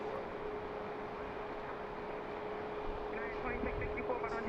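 An airplane taxies out toward the runway at BWI airport behind trees, a steady distant engine drone and hum throughout, with a faint tonal whine riding on top.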